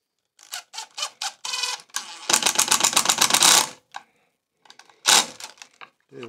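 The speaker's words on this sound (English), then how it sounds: "Take my screw gun." A screw gun driving a screw into scrap timber while building a bench hook: several short clicks and rattles, then a loud, sustained whirring drive of about a second and a half, and one more sharp burst after a pause.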